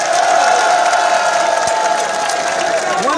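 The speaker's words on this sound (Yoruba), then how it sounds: "ẹ pàtẹ́wọ́ fún wọn" A crowd cheers and applauds at a public gathering in Igangan, Ibarapa, a steady dense roar of voices and clapping that holds close and loud throughout, with whoops rising over the din.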